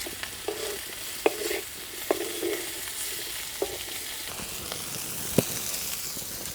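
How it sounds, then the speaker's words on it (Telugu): Bitter gourd frying in a pan, a low steady sizzle with occasional scrapes and clinks of stirring spaced through the clip, close and without talk. "ఇదిగో చూశారు కదా ఈ విధంగా వేయించుకొని తీసి పక్కన పెట్టుకోవాలి"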